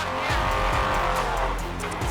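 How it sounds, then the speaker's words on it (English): Engine roar from an off-road race vehicle competing in the San Felipe 250 desert race, picked up through the crew intercom as a continuous, harsh, droning rumble with no speech. "So there was something wrong with our comms, causing the intercoms to just pick up engine noise."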